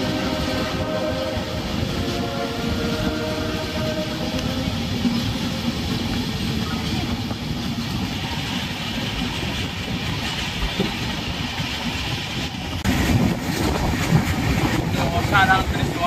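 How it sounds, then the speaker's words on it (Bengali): The Tourist Special 15777 runs slowly on tracks from New Jalpaiguri to Alipurduar, a steady rumble with clickety-clack wheel beats under occasional talk, growing louder toward the end. "আর তার মাঝখান দিয়ে ধীর গতিতে ছুটে চলেছে আমাদের ট্রেন"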